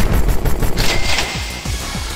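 Rapid submachine gun bursts from the Molten Iron Marfusha video game, loud and close, firing in a continuous stream of quick shots with no pauses.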